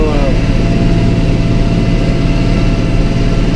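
A John Deere 4840 tractor engine runs steadily and loudly while chopping corn two rows at a time, its continuous low drone filling the background with no break.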